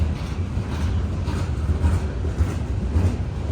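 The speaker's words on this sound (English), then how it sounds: "they run big trains out here." Heavy freight cars keep rumbling by at a railroad overlook in Cassandra, a dense, even low roar of a long train passing close, without talk.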